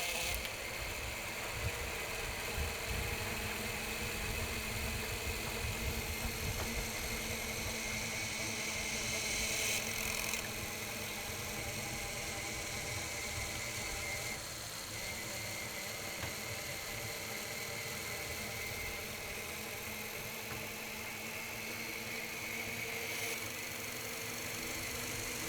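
Electric honey extractor spinning frames at maximum speed, a steady loud motor whine and whirring drone that runs throughout with a slight shift in tone midway, no speech.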